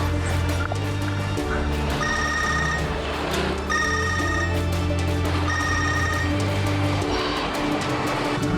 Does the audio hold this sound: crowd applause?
no